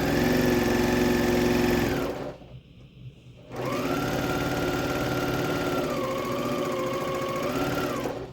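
A sewing machine stitching fabric, heard as a steady, loud, close mechanical hum that stops for about a second and then starts again, with no talk.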